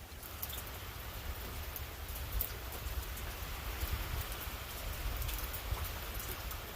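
Steady rain falls during a windy fishing outing, a dense, even patter of drops hissing on the surface throughout, close and continuous with no voices.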